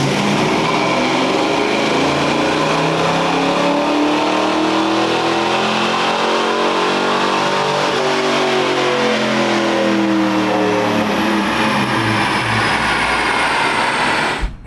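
A 1986 Mustang GT on a dyno making a 100 shot nitrous pull, its engine roaring loud and close as it revs steadily upward for the whole run, then cutting off abruptly at the end.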